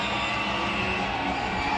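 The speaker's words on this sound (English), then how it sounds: "You can see, and maybe even hear, this Tempest home crowd getting fired up, trying to amp up this home team" Home fans of the Seattle Tempest cheer steadily at an ultimate frisbee match against San Diego Super Bloom, a dense, continuous roar of crowd noise with shouts and whoops blending together at moderate distance.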